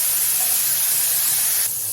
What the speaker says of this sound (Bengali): ছাতুর জল যতক্ষণ না বেরোচ্ছে ততক্ষণ ভালোভাবে জলটা শুকানো অবধি ভেজে নেব